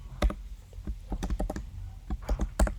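Someone types jQuery code on a computer keyboard: quick, close, irregular clicks of individual keystrokes, loud and clear with no talk over them.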